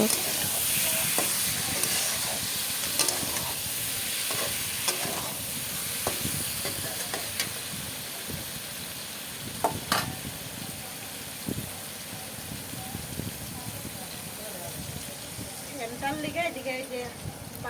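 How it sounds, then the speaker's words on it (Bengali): Fish curry with potato and tomato, spices added all together, cooks in a pan with a steady sizzle and occasional stirring clatter, close and fairly loud, under a voice talking intermittently. "এখানে আলু টমেটো দিয়ে মাছের ঝোলটা বানানো হবে সব মশলা একসাথে দিয়ে বসানো হয়ে গেল"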